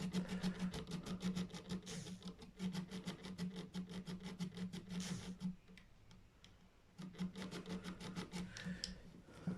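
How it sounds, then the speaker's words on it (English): A guitar nut slot on an Epiphone Les Paul Standard is evened up by rubbing the nut back and forth on sandpaper against the fingerboard, giving close, rhythmic rasping strokes with a short pause partway through. "I press the nut against the fingerboard and just go back and forth to kind of even up the nut slot"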